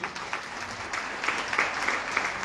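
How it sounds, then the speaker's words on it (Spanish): An audience at a book presentation honoring Padre Oliva breaks into applause, a soft steady wash of many hands clapping, even and somewhat distant, with no clear voices above it. "Fuertes los aplausos para recibir"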